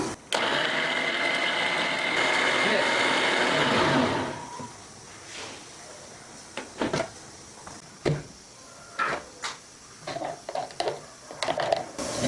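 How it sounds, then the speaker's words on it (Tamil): A mixer grinder blending cucumber with water whirs loudly for about four seconds, then stops, followed by scattered clicks and knocks of handling. "இப்போ மிக்ஸியில் வச்சு அரைச்சிக்கலாம்."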